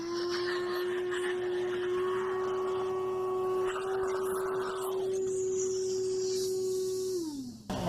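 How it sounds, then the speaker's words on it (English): A vacuum cleaner runs continuously with a steady high whine while cleaning out a sliding door track, nearby and fairly loud, its pitch shifting slightly before it winds down at the end. "And I will clean this up one more time with the vacuum."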